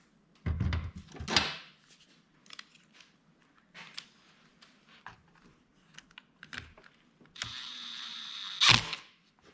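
Throttle handle being fitted back onto a Stihl MS210 chainsaw and its screw driven in: scattered light plastic clicks, taps and ratcheting, ending in a brief whirring run from a driver, close and fairly quiet, with no talk.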